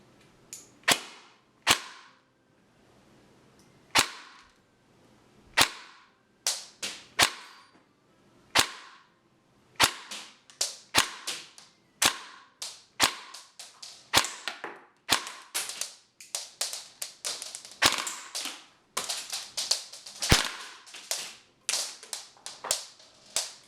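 Airsoft EMG Colt M4 SOPMOD Block 2 electric rifle shooting 0.25 gram biodegradable BBs, sharp snapping shots fired singly and in quick bursts, loud and close, with short pauses between groups and denser rapid fire near the end.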